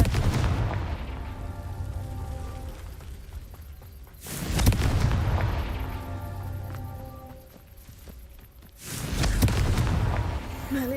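In the Hogwarts Legacy video game, the Confringo spell sets off explosions. Three deep, booming blasts each die away into a long rumbling decay, with no talk over them.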